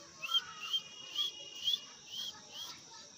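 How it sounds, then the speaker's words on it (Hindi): Short, high whistles repeat about six times in an even rhythm to call pigeon chicks during feeding, fairly faint and close, with no talking over them. "सीटी बजाइए और उसके साथ आप खिलाते रहिए इसको"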